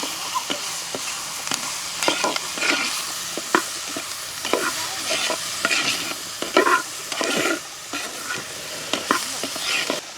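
A salted spice mixture stirred and fried in a pan over village cooking heat, with a steady sizzle under repeated scraping strokes of a spoon against the pan, close and even throughout.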